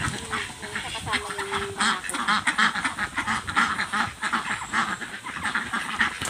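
A flock of Muscovy and Peking ducks quacks continuously at close range in a farmyard pen, a dense, raucous chorus with a low background rumble and faint voices mixed in.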